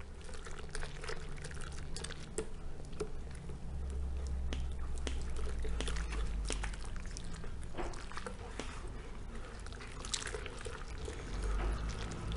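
Hot water is poured steadily over homemade OMO-style laundry soap made from three store-bought ingredients, giving a continuous close splashing and gurgling rush with small liquid spatters throughout.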